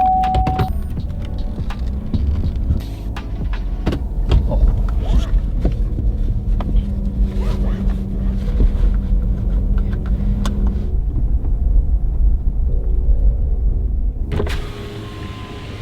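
Power windows whir and clunk inside a truck cab over a steady engine rumble, with shorter motor bursts and rustling through the cab, then the sound cuts down near the end.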